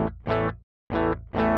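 Heavily distorted baritone guitar tuned to drop A, played through a NUX Metal Core Deluxe MKII pedal straight into a PA, gives three loud, chunky palm-muted bursts with a short silent gap between them.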